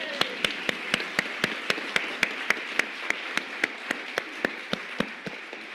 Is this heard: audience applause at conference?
yes